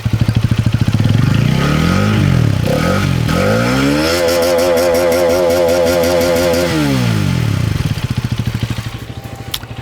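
A Hero Karizma XMR motorcycle engine idles with a loud, close, even thrum, then revs up and holds a higher note before dropping back to a throbbing idle.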